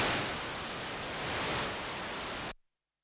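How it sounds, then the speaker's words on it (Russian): A Behringer Wasp Deluxe hybrid synthesizer's noise generator gives a steady, dense hiss that is darker than white noise. It holds constant for about two and a half seconds, then cuts off abruptly into silence. "Это не совсем белый шум, по звучанию он такой более, скажем, более темный"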